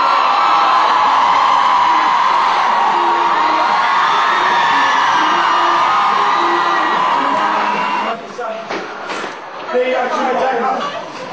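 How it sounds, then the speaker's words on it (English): Concert fans scream in a dense, continuous roar of high-pitched shrieks and cheering that fills the space, loud and sustained, with the crowd noise thinning slightly toward the end. "they scream like as if we're some kind of saviors or something."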